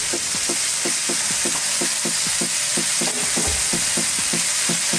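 A spatula stirs banana ketchup, tomato sauce and light brown sugar in a hot pan for spaghetti sauce, scraping in a quick steady rhythm over a constant sizzle.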